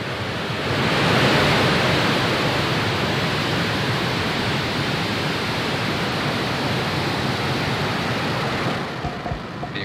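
A SpaceX rocket lifts off on a Starlink mission, a dense, continuous broadband roar that swells in the first second and holds steady, loud and even throughout.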